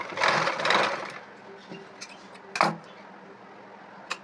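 A sewing machine runs in two quick bursts of whirring stitches while a folded sleeve design is sewn, followed by a few light clicks and handling knocks at close range.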